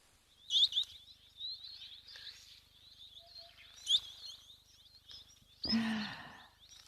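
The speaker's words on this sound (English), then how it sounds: "you can just hear the birds calling" Birds chirp and call intermittently in the distance at a waterhole in Kenya, thin high tweets scattered across the scene, with a louder burst of sound near the end.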